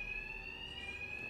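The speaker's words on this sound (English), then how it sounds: "Two-Face's thugs won't hear the alarm" Alarm ringing in Batman: Arkham Knight, a steady high electronic tone that sounds continuously and fairly quietly, with no talk over it.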